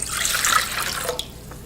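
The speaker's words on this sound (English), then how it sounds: "We're going to add our warm water to it and we're going to let it activate." Warm water poured into a bowl holding yeast and sugar, a bright splashing stream that runs for about a second and then stops, leaving a few faint drips.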